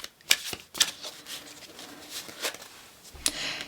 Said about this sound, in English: We're shuffled and ready to go, but I want to move the energy some more.